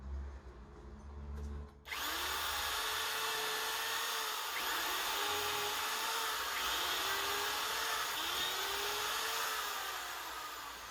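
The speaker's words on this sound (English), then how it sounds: "So I could screw those in" A power drill drives screws through small metal brackets into a wooden plank, whining loudly and steadily for about nine seconds after a short quieter start, with slight pitch dips as each screw bites.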